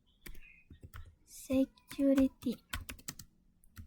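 Computer keyboard keys clicked in quick bursts while entering switch port security commands, close and fairly soft, with someone speaking over much of the typing.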